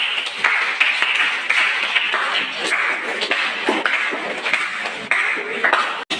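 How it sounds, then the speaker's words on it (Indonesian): A classroom group clapping briefly on request, a dense patter of many hands that swells and fades over several seconds, fairly close and without talk. "Oke, boleh kasih tepuk sedikit."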